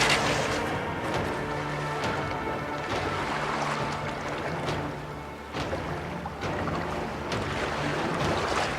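An oared galley ship in the Assassin's Creed Origins game rowing at speed during a naval battle, with rushing water and splashing waves, wind and dull thuds from the fighting around it.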